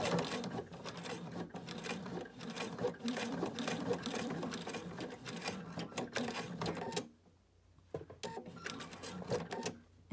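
A sewing machine stitches an eyeglass case in rapid, steady mechanical bursts, close and clear, running continuously before a brief pause near the end and then resuming.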